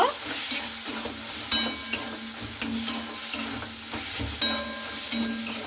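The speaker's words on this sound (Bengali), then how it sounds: "এরপরে চিনিটা দিয়ে খুব ভালো করে দেখুন আবার একটু নাড়াচাড়া করে নেব" Drumstick greens with jackfruit seeds and sugar being stirred in a hot frying pan, a steady sizzle broken by repeated scraping strokes of the spoon against the pan at a regular rhythm.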